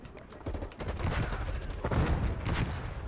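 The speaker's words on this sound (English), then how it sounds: "Why am I getting shot in the back?" Call of Duty: Cold War gunfire, a dense rattle of overlapping shots building into heavier bursts around the middle, loud and continuous across three seconds with little talking.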